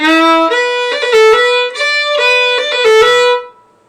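A solo fiddle plays a quick melodic phrase from a tune, bowed notes with fast ornamental rolls, clear and close with no voices.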